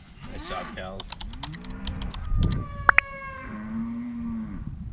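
Cattle moo in a series of long, drawn-out lowing calls, fairly near, separated by a few sharp clicks and soft rustling.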